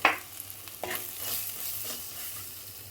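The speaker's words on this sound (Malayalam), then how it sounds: "ഇനി നമുക്ക് ഇളക്കാം" A spoon stirs Mumbai-style peas curry in a pan after chicken masala and garam masala go in, with a soft scrape at the start and quiet sizzling frying underneath. Nobody speaks.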